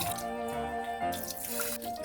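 Warm water running steadily from a kitchen tap, a soft continuous splashing stream heard up close for about two seconds with no talk.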